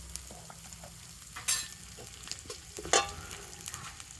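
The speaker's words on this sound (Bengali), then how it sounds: "তো তেলের সাথে আদা জিরেটা একটু ভেজে নেব।" Ginger and cumin fry in hot oil with a soft, continuous sizzle, broken twice by sharper bursts of spattering or stirring, and nobody talks.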